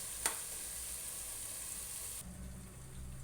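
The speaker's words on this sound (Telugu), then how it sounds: "అది అల్లము నూనెలో మంచిగా ఫ్రై కానివ్వాలి" Ginger sizzles in hot oil for a taro (chamagadda) tamarind curry, a steady close frying hiss that thins out partway through while a low hum carries on beneath.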